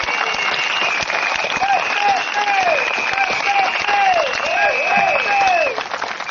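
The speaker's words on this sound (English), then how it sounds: "May we clap them?" A crowd applauding steadily at an outdoor election rally, dense clapping throughout with a steady tone and some chirping sounds in the background.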